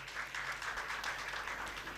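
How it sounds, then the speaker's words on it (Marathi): An audience at an event claps together in a faint, steady patter of applause heard from a distance, lasting the full two seconds without a break. "आमच्या मित्रांसाठी एकदा जोरदार टाळ्या"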